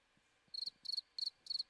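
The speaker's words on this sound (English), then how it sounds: "I didn't put the crickets noise on here." A cricket sound effect plays four quick bursts of high, trilling chirps at an even pace, faint but clear over a quiet background with a few soft low thumps.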